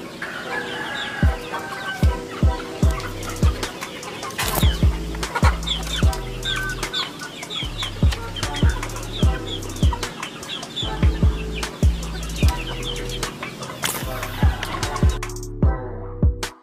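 Close, repeated bursts of wing flapping come in a steady rhythm, mixed with hens clucking and a rooster crowing, from Balinese AK47 getar chickens.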